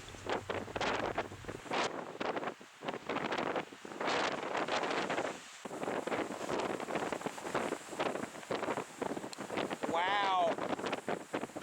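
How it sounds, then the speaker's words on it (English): Strong wind gusting across open Oregon desert sagebrush country, buffeting the microphone with loud, continuous roaring rushes that rise and fall in waves, with a brief faint whistling tone near the end. "The wind picked up, blowing harder than ever."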